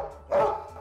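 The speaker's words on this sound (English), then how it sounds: "Your dog is barking each time." A dog gives a single sharp bark on command, close and loud, standing out clearly against a quiet room.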